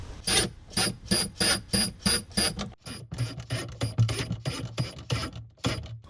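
A screw is driven in to fix a slide rail for a gas stove in a mini van, heard as loud repeated ratcheting bursts from a close power driver, a regular pulse first, then a faster, busier run.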